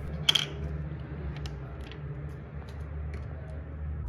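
A plastic mold on a Happizza button maker machine is turned by hand, giving off a close mechanical ratcheting and grinding sound with a couple of sharp clicks near the start, all over a steady low hum.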